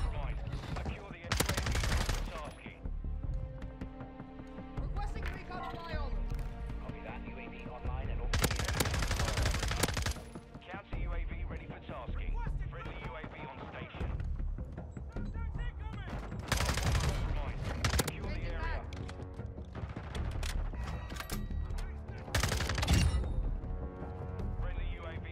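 Automatic fire from the buffed FFS Hurricane in Modern Warfare 2, loud repeated bursts of gunfire with explosive cracks across the whole stretch, mixed with game sound and someone talking over it.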